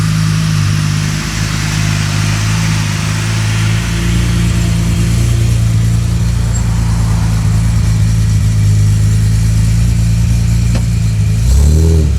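A BMW E30 engine with new headers and exhaust idles with a deep, throaty exhaust rumble, steady and loud, then revs sharply near the end.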